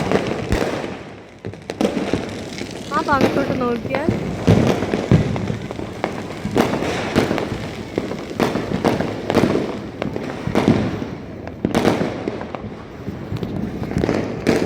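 Diwali firecrackers in Chennai crackle and pop in rapid, irregular bursts, sharp and fairly close, with a brief spoken voice amid the bangs.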